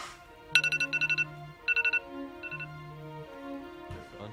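A phone ringtone plays a bright, repeating electronic chime in quick bursts of notes, clear and close, with no talk over it.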